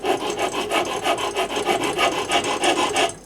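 Steady back-and-forth sanding of a wooden bow tip with sandpaper rolled around a file, smoothing away rasp marks; about a dozen even rasping strokes, close and loud, stopping abruptly at the end.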